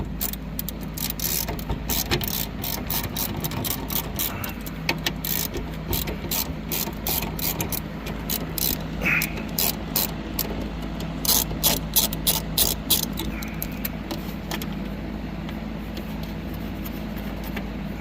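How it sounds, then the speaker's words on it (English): A ratchet with a 10 millimeter socket loosens shifter bolts on an 1987 Monte Carlo SS, giving bursts of rapid close clicking over a low background hum, the clicks coming in uneven runs throughout. "Put that on a ratchet."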